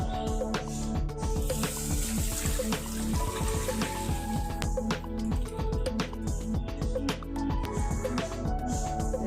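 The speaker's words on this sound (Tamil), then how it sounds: "காய்ச்சின பால் இதை நம்ம இந்த பேனில் ஆட் பண்ணிக்கலாம்." Half a liter of boiled milk pours into a pan for semiya payasam, a steady liquid splashing and trickling close by with no talk.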